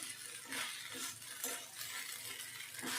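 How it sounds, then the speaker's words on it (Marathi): Soaked sabudana khichdi is stirred in a pan over medium heat for a fasting recipe. A spoon scrapes and clinks against the metal in a steady, close rhythm, and no one speaks. "आता मीडियम गॅसवर पाच मिनटं मी परतून घेते"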